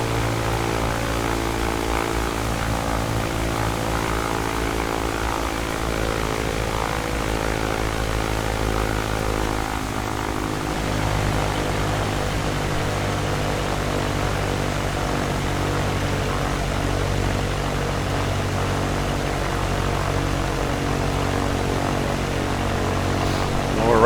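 A propeller airplane in the X-Plane flight simulator drones steadily through a landing, its engine hum loud and continuous throughout with no talk.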